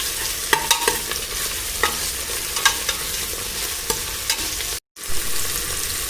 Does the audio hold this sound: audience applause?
no